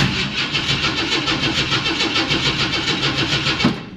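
A cold Ford 460 Camper Special engine with a temperamental carburetor cranks with a steady, pulsing churn that continues for several seconds, loud and close, with no speech.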